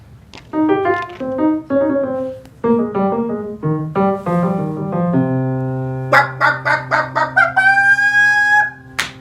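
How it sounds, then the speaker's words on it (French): A hen clucks and squawks in a series of loud, close calls, ending in a quicker run of short clucks. "Cette amie-là n'est autre que Dame Poule, la poule."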